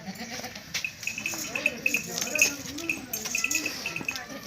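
A heavy cross-breed milking goat bleats repeatedly in a Lahore livestock sale, wavering cries close by over a busy background with a person talking.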